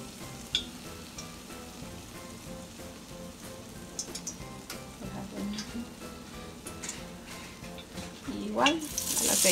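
Battered cheese-stuffed chile relleno pepper frying in hot oil, a steady crackling sizzle with scattered pops that swells louder and busier near the end.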